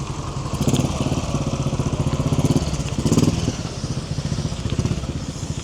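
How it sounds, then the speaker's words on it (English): Motorcycle engines idle and putter at a vintage military vehicle show among Willys Jeeps and army trucks, a close, steady rhythmic thumping with slight surges in intensity. "motorcycles."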